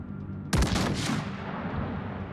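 A battleship's main guns fire once in World of Warships, Tier 9 Adatara, a single loud booming blast with a rumbling tail that fades over about two seconds.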